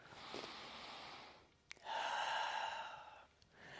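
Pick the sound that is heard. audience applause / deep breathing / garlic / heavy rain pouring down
deep breathing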